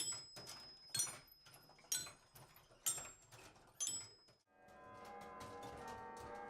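Large bells struck one at a time in a slow, regular rhythm, each ringing and fading, then a sustained, overlapping metallic wash of tones.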